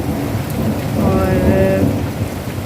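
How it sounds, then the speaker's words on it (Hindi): Heavy rain pours down steadily while a low thunder rumble swells and fades, heard from inside a showroom during a storm, with no talking. "कितनी भयंकर आवाज़ आ रही है गरजने की बादल।"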